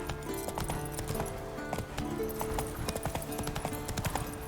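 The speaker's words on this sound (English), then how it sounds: "Whoa there, Roach." Horse hooves clip-clopping steadily in The Witcher 3 video game, a close, continuous trotting rhythm layered over ambient game sound, with no speech.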